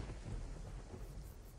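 Thunder rumbles low under falling rain during a storm at a Roblox camping game site, in a short, heavy burst that holds steady for under two seconds.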